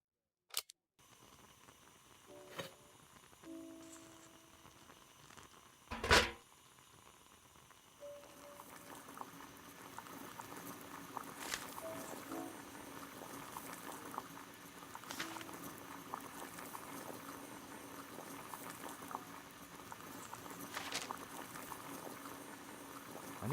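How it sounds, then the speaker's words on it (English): Water comes to a boil in a kettle in the Sherlock Holmes The Devil's Daughter game. A few faint clicks and a sharp knock are followed by a steady low bubbling hiss that continues quietly to the end. "Boil water in kettle."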